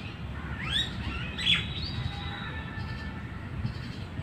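Birds chirping in a park, a few short high tweets and calls scattered over a low, steady background rumble, moderately near and without talk.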